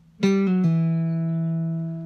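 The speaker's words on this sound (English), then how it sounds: "double pull off where I'm going to pick the note once and pull it off twice" A single plucked note on a cigar box guitar followed by two quick pull-offs to lower pitches, the last note ringing out and slowly fading.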